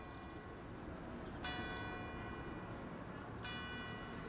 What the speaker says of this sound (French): nous parvenons même à entendre les cloches de l'église qui sonnent 9 heures